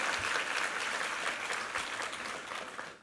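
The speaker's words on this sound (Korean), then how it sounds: "우리 이부 성가대에게 한번 힘찬 격려의 박수 부탁합니다" A church congregation at a Sunday service marking the 13th anniversary applauds the choir, a brisk, dense burst of clapping from many people that tapers off after three seconds.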